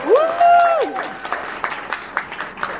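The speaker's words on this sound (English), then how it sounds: "Can we give it a big round of applause," At an Amarula dinner event, a voice rises out of the start, then a small crowd claps in sparse, uneven bursts that stay fairly light and scattered.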